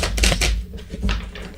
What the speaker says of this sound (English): let's shuffle these cards.